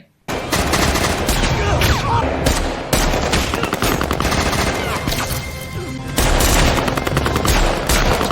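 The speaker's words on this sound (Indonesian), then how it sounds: "mereka langsung melepaskan tembakan, memicu baku tembak sengit di tepi sungai." Heavy gunfire erupts in a sustained barrage during a riverside shootout, rapid bursts and overlapping shots with only brief breaks, loud and close.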